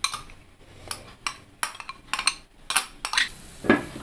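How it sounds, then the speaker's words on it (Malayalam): Grated coconut being moved into a mixer jar, with a series of sharp clinks and knocks of a metal spoon and pots, irregular and close, with no talk. "അതിനായിട്ടൊരു മിക്സിയുടെ ജാറിലേക്ക് മാറ്റാം."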